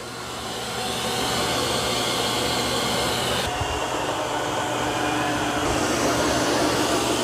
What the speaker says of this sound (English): It's done a really good job of vacuuming.